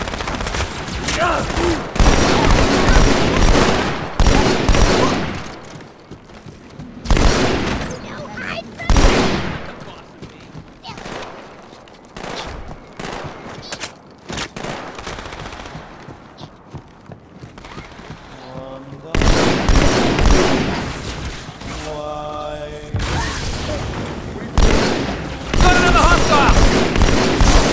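Rapid automatic gunfire in Halo 2 Anniversary as Covenant forces are cleared from a structure, long loud bursts broken by short pauses and booming impacts, with soldiers' voices calling out between volleys.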